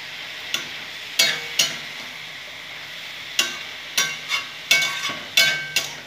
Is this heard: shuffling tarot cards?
no